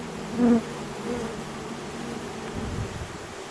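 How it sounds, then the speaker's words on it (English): Honey bees buzz close by in a steady, faint hum, with one louder bee passing near at the start. "There's a lot of bees here to be going through too."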